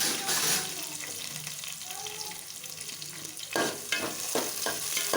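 Small onions and coriander leaves fry in hot oil for a tomato curry, giving a steady close sizzle, joined near the end by a run of sharp spatula scrapes and stirring knocks.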